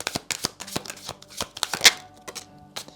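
Tarot cards being shuffled for a reading, a close run of soft riffling flicks and taps with uneven rhythm over about three seconds.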